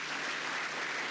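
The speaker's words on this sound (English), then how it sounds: "Let's give her a warm clap again." Audience at a university open day giving a warm round of applause, a dense, even wash of clapping that fills the whole moment.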